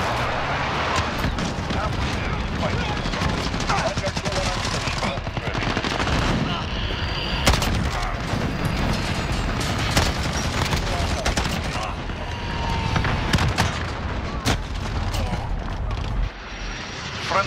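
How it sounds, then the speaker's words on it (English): Call of Duty: Modern Warfare multiplayer battle with a droning aircraft engine overhead, rattling machine-gun bursts and heavy explosions from a precision airstrike, all continuous and loud, with game announcer voice lines and talk over the top. "Enemy precision airstrike inbound."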